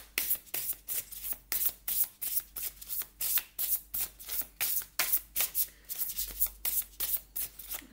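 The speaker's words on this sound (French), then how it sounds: "Je vais demander une petite carte ici." Oracle cards shuffled and drawn by hand in a steady run of soft, papery riffles, close and fairly quiet, about two strokes per second, with no talking.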